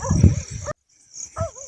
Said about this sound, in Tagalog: Sila yung pala yung mga tinatahulan ng mga aso dito guys.